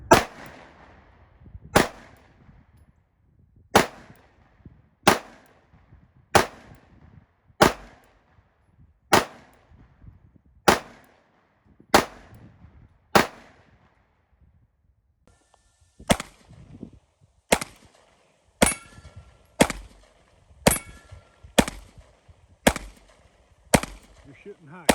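A Springfield Armory Hellcat Pro pistol fires at a shooting range, about eighteen sharp, loud shots at a steady, unhurried pace, with one brief pause partway through.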